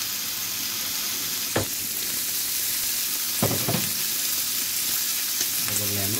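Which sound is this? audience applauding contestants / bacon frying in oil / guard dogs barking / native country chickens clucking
bacon frying in oil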